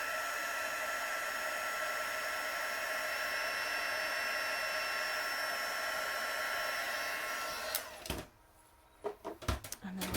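A heat tool blows steadily during a gilding craft project with gilded leaf, a loud constant whirring hiss for about eight seconds that then cuts off, followed by a few faint handling clicks.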